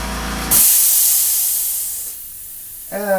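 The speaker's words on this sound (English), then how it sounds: "Air compressor." An air compressor kicks on during a pinball machine retheming project, giving a loud, steady broadband hiss that runs for about a second and a half, then drops to a quieter sustained hiss before a voice returns at the end.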